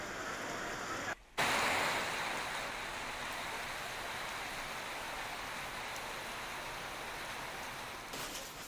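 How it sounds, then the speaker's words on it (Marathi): Stormy unseasonal rain with hail in farmland near Shiroli and Mahagaon, Gondia district, as a dense, continuous roar of downpour. A brief dropout comes early, and the roar holds steady to the end. "गोंदिया जिल्ह्यातील शिरोली, महागाव परिसरामध्ये वादळी वाऱ्यासह गारपीट झाली आहे"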